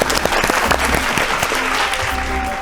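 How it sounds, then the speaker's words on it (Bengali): A studio audience claps loudly for two contestants on a Bengali family quiz game show, a dense burst of applause that runs the whole time. "জোরে হাততালি দুজনের জন্য"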